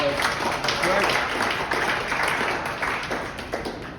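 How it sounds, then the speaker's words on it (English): A room of people applauds a recording studio scheduler at a Nashville honky-tonk school session, steady clapping that gradually tapers, with talk mixed in. "So give John a big round of applause."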